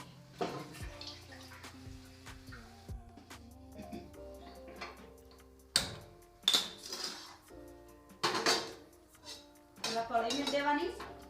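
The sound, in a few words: cooking pots and utensils clinking while setting up a kadhai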